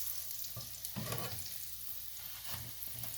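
A radish paratha fries on a pan with a quiet, steady sizzle, broken by a few short, louder crackling bursts as it is flipped and pressed.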